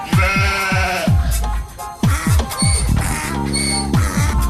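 Several sheep bleat loudly and repeatedly in quick succession, wavering calls overlapping one another up close with no talking.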